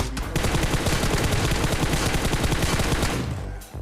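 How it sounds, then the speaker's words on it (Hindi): Heavy, continuous gunfire around a tower on PUBG's Erangel map, a dense rapid barrage of shots filling nearly four seconds at steady loudness before easing off at the end. "तभी टावर से फायरिंग के कुछ साउंड आते हैं"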